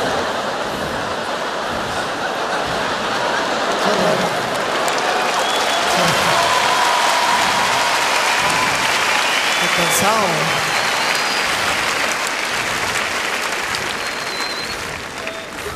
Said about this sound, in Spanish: Ahora me aplauden.